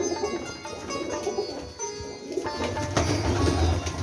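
Jaldar Teddy pigeons, breeding pairs with their young in a loft, coo in soft, throaty, overlapping murmurs, close and continuous, with a faint thump or flutter near the end.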